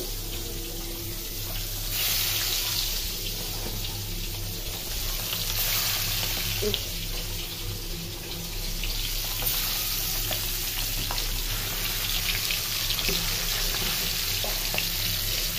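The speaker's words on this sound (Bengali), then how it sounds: "ডিম ভাজা ভাজা হোক" Eggs frying in a pan, a steady close sizzle and crackle that runs throughout with occasional small pops and stirring sounds, no talk.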